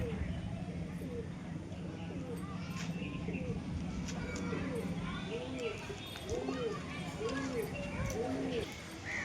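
Pigeons cooing from a tree, soft repeated coos heard faintly under a steady outdoor background, with people talking nearby.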